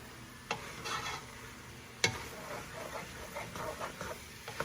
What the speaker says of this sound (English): And we'll just stir it up.